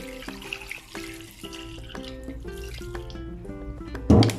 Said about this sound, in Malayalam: ഇനി സ്റ്റവിൻ്റെ ബർണർ ഞാൻ കുറച്ച് വെള്ളവും